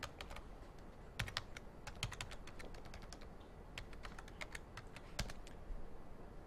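Java code is typed on a computer keyboard in a quiet room, with irregular, soft key clicks in quick bursts and short pauses, fairly close and low in level.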